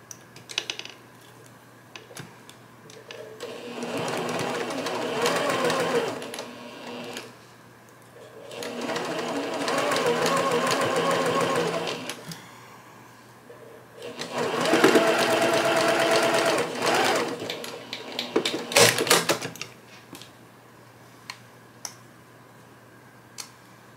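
A domestic sewing machine stitches miniature churn dash quilt block pieces in three steady whirring bursts of a few seconds each, with short pauses between them and light handling clicks near the end.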